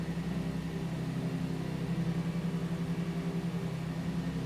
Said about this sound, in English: radial engine noise of perfection.